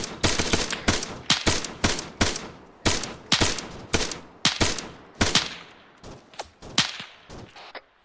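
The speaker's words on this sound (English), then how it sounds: "Sounds like we got shots to the south" Bursts of rifle gunfire crack from the south during Marine platoon escort training, a rapid series of sharp, loud shots in irregular volleys, some slightly more distant, with no talking.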